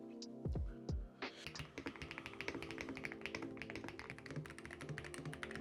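Typing on a 75% keyboard with Hall effect magnetic switches: two loud thocks, then a fast even stream of close, crisp keystrokes with a fairly deep tone.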